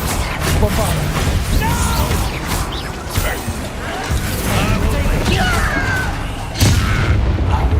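Bombarda explosion spells boom during a goblin fight in the Hogwarts Legacy game, several heavy thumping blasts, the loudest near the start and another near the end, amid constant battle noise and voices.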